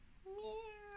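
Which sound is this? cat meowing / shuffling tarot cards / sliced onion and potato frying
cat meowing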